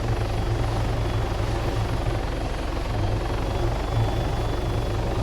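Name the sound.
helicopter engine in video game Arma 3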